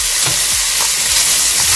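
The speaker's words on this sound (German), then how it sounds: "Und jetzt lassen wir den Speck aus." Bacon renders in clarified butter in a pan, giving a steady, loud, close sizzle and hiss with a few faint knocks underneath, with no talking.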